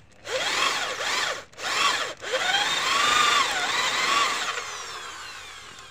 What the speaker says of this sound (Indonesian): Untuk melakukan pengeboran selalu di terawang ya, agar tidak bablas ke bawah ya